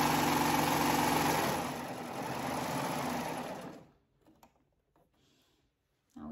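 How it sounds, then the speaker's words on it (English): A serger sewing machine runs at speed while serging off a fabric edge on a garment, a loud steady mechanical whir that stops abruptly, leaving near silence with a few faint handling clicks. "now with my needles up, I'm gonna move this to the back and serge off."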